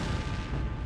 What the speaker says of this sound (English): The pilot calls it naval gunfire from the nearby cruiser USS Savannah.